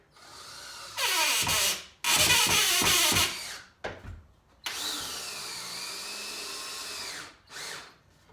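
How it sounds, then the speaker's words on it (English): A cordless battery-powered drill boring into wood for a bench-area shelf, sounding in two loud close bursts, then shorter revving pulses and a long sustained whine near the end, with no talk. "These drills aren't light, especially with the battery."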